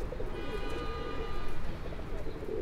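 Pigeons coo close by in a Brooklyn rooftop pigeon-keeping setting, soft low repeated calls over a murmur of background noise and a faint tonal hum.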